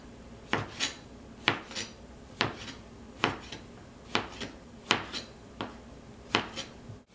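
A knife chops steadily through bamboo shoots on a board, about eight crisp, evenly spaced cuts, close and fairly quiet.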